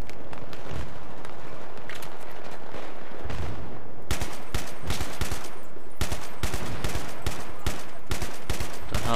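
Battlefield 3 combat gunfire during a team deathmatch, with dense, loud automatic bursts and overlapping shots that continue almost without pause and grow heavier partway through.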